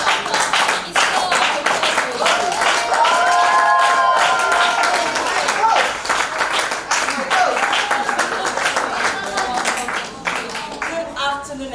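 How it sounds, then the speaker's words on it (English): An audience at a business mentoring session claps and cheers to welcome a speaker, loud sustained applause with some voices and shouts mixed in, tapering toward the end. "Let's put our hands together with a thunderous round of applause as we welcome Iswa."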